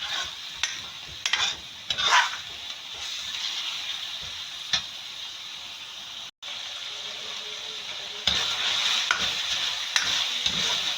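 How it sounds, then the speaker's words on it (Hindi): Minced meat with garlic and ginger fries in a pan, giving a continuous soft sizzle broken by scraping stirs of the spoon, heard close and alone without talking. "ये कीमा अच्छे से भून गया है"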